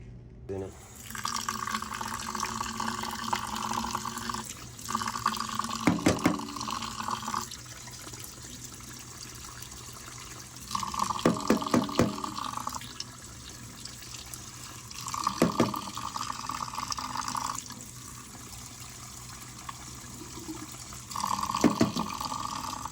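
Tap water runs into a kitchen sink in repeated bursts while a clogged part from a GE dishwasher is rinsed and cleaned, a close, steady splashing rush that starts and stops several times.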